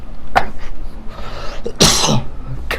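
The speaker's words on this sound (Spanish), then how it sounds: "que no puedo casi hablar por la tos que he tenido desde hace 2 días" A person with a two-day cough coughs sharply several times, with a couple of rough bursts and one strong harsh cough in the middle, close and loud in a quiet room.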